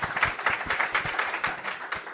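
Audience applause at a Bitcoin hackathon finalist event, thanking the organizing team: a steady, moderately close patter of many hands clapping for about two seconds without a break.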